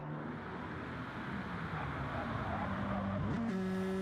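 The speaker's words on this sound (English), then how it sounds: "Rashad Metze pulling in the clutch in turn 3." Race car engine at steady high revs during a championship race, with a pitch shift near the end as the driver pulls in the clutch in turn 3; a continuous loud drone with no voices.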